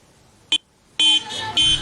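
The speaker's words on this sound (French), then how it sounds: "Klaxons, youyous et cris de joie." Car horns honk in a wedding convoy in Yaoundé, one short blast followed by longer overlapping loud blasts close by, with crowd noise underneath.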